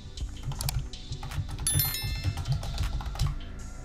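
Typing on a computer keyboard: close, quick clusters of light key clicks in an uneven rhythm, heard alone with no talking.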